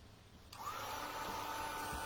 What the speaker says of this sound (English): I get my dryer, so it might make some noise